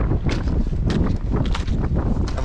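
Gusty wind on a climb up Errigal mountain in County Donegal buffets the microphone in loud, irregular rumbling bursts, with faint rustling between gusts and no talking.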